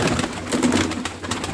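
Pet pigeons cooing close by, soft throaty murmurs blending into a busy, continuous flutter of bird sounds with no talk.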